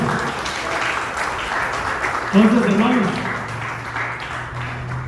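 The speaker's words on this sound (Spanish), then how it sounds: "Denle un aplauso al Señor." A church congregation claps for the Lord during a Spanish-language sermon, a broad patter of hands under the preacher's voice, with a short sung or shouted phrase rising midway.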